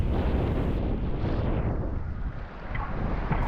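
Steady heavy wind roar buffets the microphone while downwind SUP foiling on a New Jersey bay, continuous and loud with a brief dip near the end, no voices.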